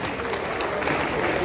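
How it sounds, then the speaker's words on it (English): Audience applause at the official launch of a convention in Benin City, Edo State: a dense, steady wash of many hands clapping that fills the whole moment, with crowd noise mixed in. "Give him a round of applause as you take your seats."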